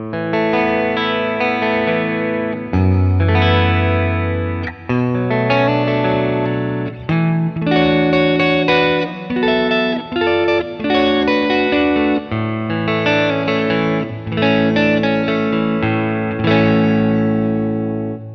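Electric guitar through a HeadRush Prime multi-effects unit set to an almost clean, Fender-like tone, strumming ringing chords and melodic lines continuously with light shimmer and reverb.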